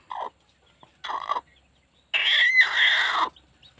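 A black Hmong hen with newly hatched chicks clucks in three separate bursts, a short one, a second, then a longer louder run of agitated clucking close by, with quiet gaps between.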